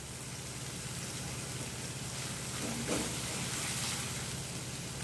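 Tomatoes and mint leaves sauté in a hot pan for a Tamil boiled-egg white kurma, giving a steady, fairly loud sizzle and hiss throughout with no talking.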